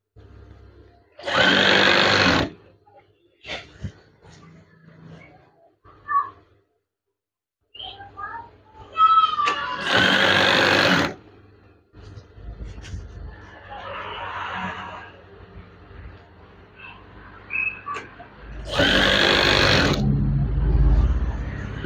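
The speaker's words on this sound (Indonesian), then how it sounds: "ini adalah sambungan tirai tadi. Kemudian langsung jahit saja." A sewing machine stitching a curtain seam in three loud, steady bursts of whirring, separated by quieter stretches of handling noise, faint clicks and chirps.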